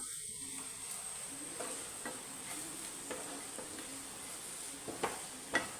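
Ground black pepper and fennel seeds fry quietly in a pan for an egg roast, a soft steady sizzle with occasional light scrapes of a spoon stirring them, growing a little louder toward the end.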